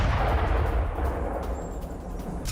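A heavy, rumbling explosion from a drone strike on a gas station roars through the whole clip, loud and sustained, with a dense low-end boom and crackling debris noise.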